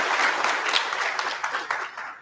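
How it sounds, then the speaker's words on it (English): Auditorium audience applauding a Major General at a special lecture on Kashmir, with a steady, dense wash of many hands clapping throughout. "Let's have a round of applause for Major General Channon."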